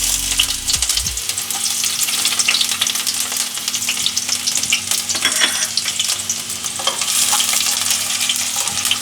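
Chopped onion and green chilli fry in hot oil for crispy potato balls, a loud, dense crackling sizzle running throughout, close by, with a brief clatter near the start and no talk.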